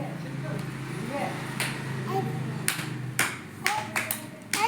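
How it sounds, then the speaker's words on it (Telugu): Schoolchildren in a classroom clapping after a colour-matching activity, a few sharp claps and short bursts of applause near the end following a stretch of quieter room noise and a voice. "క్లాప్స్."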